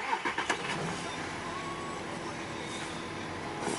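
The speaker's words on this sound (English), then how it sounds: "start the engine" A 2009 Audi Q7 3.0 TDI diesel engine cranks with a few quick bursts, then settles into a steady low idle, heard from close by.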